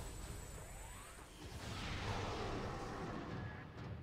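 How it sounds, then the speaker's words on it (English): Super missiles fire in the Metroid Prime video game, a rising whoosh and a heavy rumbling blast that swells midway through, fairly loud against a busy game-effects background, with no talk. "Take them out with super missiles."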